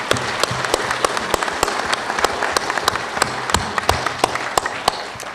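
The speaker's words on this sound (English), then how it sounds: "Let's give them a round of applause, please." An audience applauds at a conference panel session, with dense, steady clapping and sharp individual claps standing out throughout, sustained at a constant moderate level.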